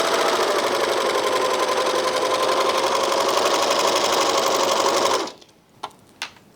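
Janome 644D serger overlocker stitching fabric, a steady fast whirring hum running loud and close for about five seconds, then stopping, followed by a couple of small clicks.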